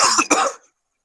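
A single sharp cough, close and fairly loud, with a brief double burst before it cuts off into silence.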